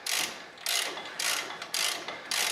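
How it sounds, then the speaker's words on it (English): Half-inch drive ratchet loosening strut bolts on a 2015-2018 Jeep Cherokee KL, five quick bursts of dense metallic clicking in an even rhythm, close and loud, with no talking. "a pretty big ratchet with 1/2-inch drive"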